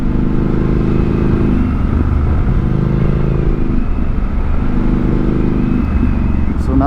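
A motorcycle rides along a country road on Route 197 in North Carolina, its engine droning loud and close without a break. The pitch rises and falls with each shift, and a voice talks over it.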